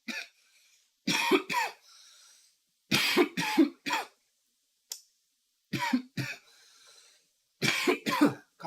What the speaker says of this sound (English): coughing more and more.